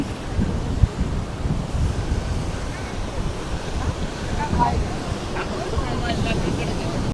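Ocean waves wash onto the beach at Mirissa in a steady, dense roar of surf, with wind buffeting the microphone throughout and no clear gaps between breakers.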